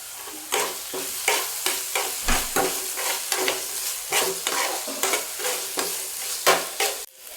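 Pasta ingredients with chili flakes sauté in a pan, with rhythmic stirring scrapes over a continuous sizzle, close and fairly loud, a steady run of repeated strokes with no voices.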